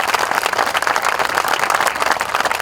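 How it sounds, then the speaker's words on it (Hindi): Loud, sustained applause and clapping from a large crowd at an outdoor protest against mandatory vaccination, dense and continuous throughout. "आपके लिए प्लीज एक बड़ी ताली दे दीजिए।"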